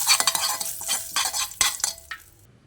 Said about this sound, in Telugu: ఇప్పుడు పల్లీ చట్నీకి తాలింపు పెడుతున్నానండి